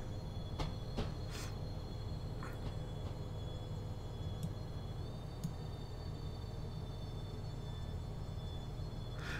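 Simulated train arriving at a station in Train Simulator 2014, a constant low rumble of motors and wheels with a few faint high squeals and clicks, no voices.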